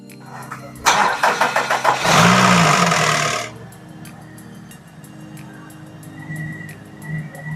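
A Nissan Serena C24 engine cranks and fires, revving briefly before settling into a steady, close idle while it runs to circulate transmission oil.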